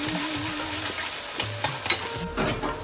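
Onions frying in a hot pan for misal, with curry leaves, a continuous close sizzle with stirring scrapes and clinks, no talk.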